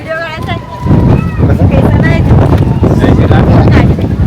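Gusty wind blowing outdoors at a hillside stop at Malshej, a loud, steady broadband rush buffeting the microphone throughout, with voices heard under it.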